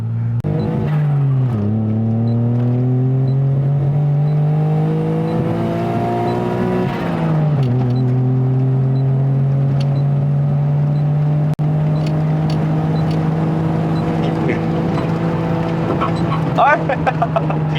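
The small engine of a Perodua Kancil drones loudly and up close while the car is driven on a test run. Its pitch climbs through a gear, drops sharply at a shift, then climbs again into a long steady hum.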